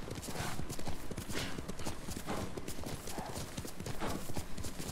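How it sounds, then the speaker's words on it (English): A horse gallops in the video game Ghost of Tsushima, with rapid, loud rhythmic hoofbeats pounding continuously over a breathy rushing background. "I like how the horse goes right through the bamboo."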